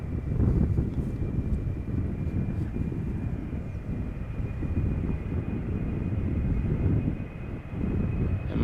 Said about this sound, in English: First up is this KLM Embraer 190 with destination Rennes in France.